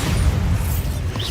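The Bombarda spell blast in the Hogwarts Legacy video game gives a dense, rumbling boom. The low roar stays steady and loud across a short moment.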